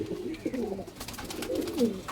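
Pigeons coo in low, rolling, throaty phrases, repeated close by over a faint background with no talk.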